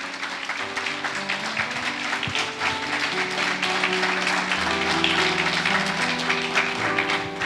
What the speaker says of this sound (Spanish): Dele ese aplauso al Señor en esta mañana.